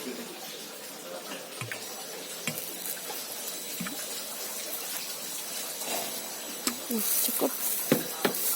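Water trickles and splashes irregularly as it is poured onto soil sown with cherry tomato seeds in a home garden, with soft wet spatters and drips close by.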